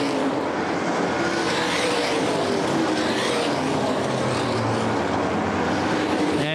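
Modified race cars cross the finish line at Winchester Speedway during the 2011 USA Modified Series Run For The Gun 50, a loud, steady engine roar that fills the whole stretch, with the 88 car's motor blowing as it crosses.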